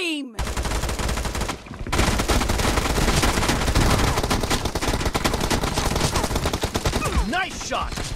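Dense, loud gunfire rattles through a team deathmatch video game match in sustained automatic bursts, with a brief lull early on and a few short tonal game effects at the start and end.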